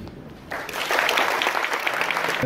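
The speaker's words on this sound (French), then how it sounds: "Et ça s'applaudit." Applause at an evening reception celebrating Air Côte d'Ivoire's first Airbus A320 delivery, starting sparse then swelling into dense, sustained clapping from a crowd, with a voice starting to speak at the very end.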